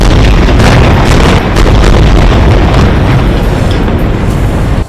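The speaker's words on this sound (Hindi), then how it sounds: "एक इमारत पर तो एक के बाद एक कई मिसाइलें गिरी, जिसके बाद ऐसा धमाका हुआ कि कान के पर्दे फट जाएं" Missile strikes on buildings in Gaza produce a loud, continuous roaring, rumbling blast that fills the whole recording at saturating level for several seconds before it cuts off abruptly, with no speech.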